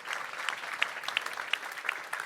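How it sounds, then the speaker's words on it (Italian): Audience applause at the close of the second edition of the Manus Futuri event at the Verona trade fair, a steady crowd clapping with sharper individual claps standing out throughout, moderately near. "E un applauso anche per questo signore."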